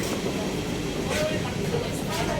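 Steady rumbling of a train interior in motion between Brussels and Liège, a constant low roar with faint rattles and murmuring voices underneath.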